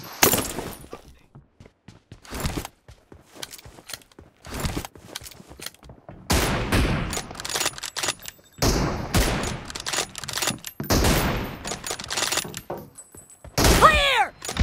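Gunfire in PUBG Mobile comes in sharp bursts and rapid volleys with quiet gaps between them, one loud close burst near the end.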